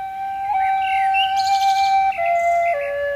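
Cartoon birds chirp around a village, bright whistled tweets and trills overlapping in a lively, close chorus with no voices.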